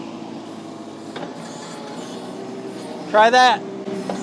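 A mini excavator idles steadily while digging out a tree stump, its low engine hum constant in the background as a person speaks briefly near the end.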